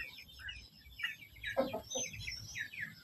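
A one-eyed cockerel, kept apart from the flock, lets out a few short clucks and throaty calls at close range, with other birds chirping faintly around it.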